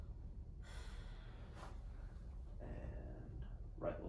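A patient draws slow, deep breaths during a lung auscultation exam, each inhale and exhale a soft, airy hiss, with a sharper gasp near the end, heard close and quiet against a low background hum.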